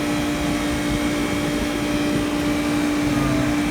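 A refrigerant recovery machine runs on a walk-in cooler with an iced-up evaporator, making a loud, steady motor drone with a constant humming tone and a rushing airy noise, close and unbroken.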